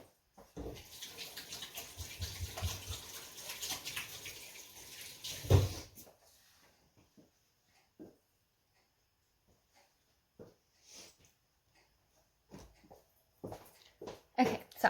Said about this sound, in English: now I'm gonna go wash my hands.